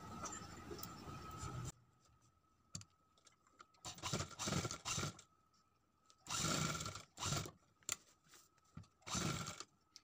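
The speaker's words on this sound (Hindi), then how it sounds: "हम लप पे सिलाई लगा देंगे" A sewing machine stitches a folded sleeve in several separate bursts of fast mechanical whirring, each lasting a second or two, with quiet gaps between them. It is close and clear, and no one speaks.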